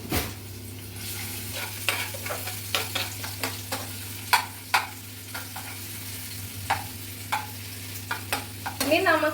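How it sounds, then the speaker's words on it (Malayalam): Ginger, garlic and chili fry in a pan for Goan seafood, with a steady low sizzle under repeated sharp metal-spoon scrapes and stirs, loud and close, ending in a brief rustle. "ഇനി നമുക്കിത് ഇഞ്ചിയും വെളുത്തുള്ളിയും മുളകും കൂടെ ഇതിലോട്ട് ഇടാം."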